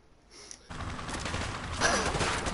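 Sustained gunfire at an airport in Call of Duty Modern Warfare 2, a dense fusillade that starts abruptly after a brief quiet lead-in and keeps rolling on, loud and close.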